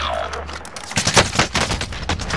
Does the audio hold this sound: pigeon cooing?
no